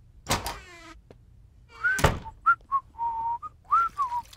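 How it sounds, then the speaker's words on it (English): A cartoon character whistles a short, loose tune of rising and falling notes, clear and close, after a couple of brief vocal sounds and a soft thump. "You heard me whistling there"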